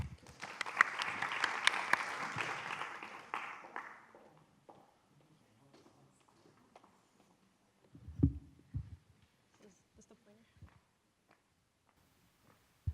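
Audience applause welcoming a speaker at an MIT Arab SciTech architecture talk, moderately loud clapping in a hall for about four seconds that fades out, followed by quiet room sounds and a few thumps.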